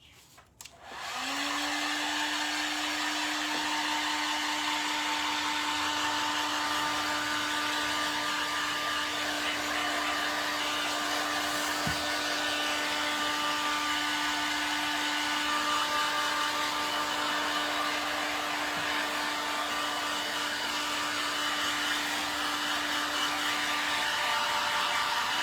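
A dryer blowing steadily on a sealed, painted vintage book, a loud constant whirring hum switched on at the start and held for over twenty seconds, alone without talk.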